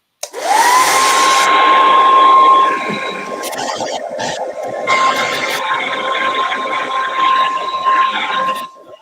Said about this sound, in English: just to be safe, hit it one more time with the dryer